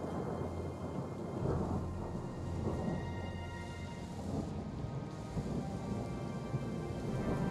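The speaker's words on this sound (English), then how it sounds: "Oh, it's raining." Rain in the Legendary Sun Quan Chibi mod of a strategy game, a steady, full downpour with low thundery rumble underneath, continuous and even throughout with no talking.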